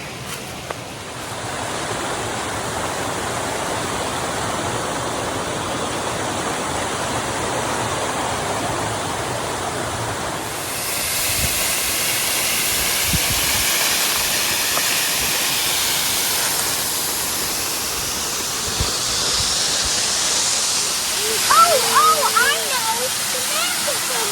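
Waterfall in the Ouachita Mountains roars as a steady broadband wash throughout, growing fuller and closer midway, with faint creek splashing near the end; no talk over it.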